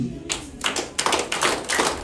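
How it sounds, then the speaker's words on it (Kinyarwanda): A short burst of clapping from a small group at a Rwandan engagement and dowry ceremony, uneven and close, rising and falling over two seconds. "bongere banakombera amashyi"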